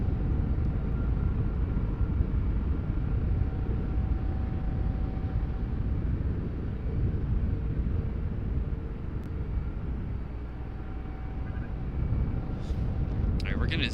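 A Lockheed aircraft at RDU airport gives a steady, broad engine roar that holds through the whole stretch, loud and continuous, with faint scattered voices or handling noise near the end.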